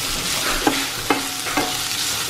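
Chicken frying in extra virgin olive oil as a soy substitute of amino acids is added for chicken teriyaki, a close steady sizzle broken by three brief scraping stirs; no voices.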